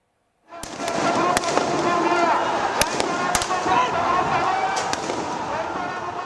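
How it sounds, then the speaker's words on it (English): Police fire stun grenades and tear gas at a mass street protest. Sharp bangs and pops ring out at irregular intervals over a constant roar of a large crowd. "Police fired tear gas and lobbed stun grenades to disperse thousands of demonstrators."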